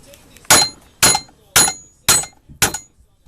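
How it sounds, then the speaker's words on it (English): A hammer strikes a mandrel being driven into a horn cup, five sharp, ringing metallic blows evenly spaced about half a second apart, close and loud with nothing else around them. "We're trying to drive this mandrel in so it's tight on both ends of the horn."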